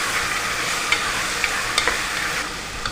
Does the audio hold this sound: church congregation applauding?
no